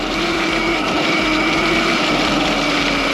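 A 10kW electric mini bike rides through mud, its motor giving a loud, steady, droning whine with no pause over a few seconds.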